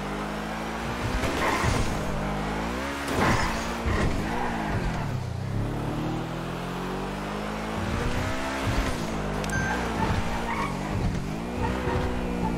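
Fast driving in GTA V, a game car's engine roaring steadily with rising and falling revs and brief tire skids, loud and continuous throughout with no talk.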